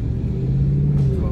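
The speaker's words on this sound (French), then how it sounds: "Sa Mégane a fait un raffut" A Renault Mégane engine rumbles steadily nearby, a low droning note holding through the whole moment with a slight rise toward the end.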